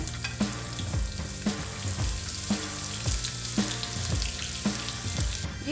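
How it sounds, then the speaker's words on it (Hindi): Garlic sizzling in hot ghee for a ghiya tori curry: a dense, steady frying crackle with a regular stirring scrape about once a second, close and fairly loud. "अभी मैं ना इसमें लहसुन डालूँगी।"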